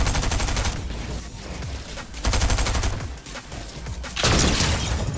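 Rapid, dense bursts of gunfire from a Fortnite match, with loud volleys of shots and booms packed closely together throughout, intensifying again near the end.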